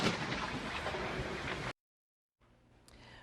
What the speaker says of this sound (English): one way too close encounter with a bolt of lightning